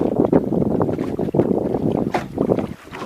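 Wind buffeting a small sailboat a couple of miles offshore, gusty broadband rushing and flapping that swells and fades in uneven pulses, close to the microphone with no talk.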